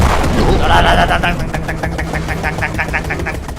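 Rapid bursts of a tank's automatic machine gun in the video game Brick Rigs rattle in a steady rhythm over a low engine rumble, close and loud.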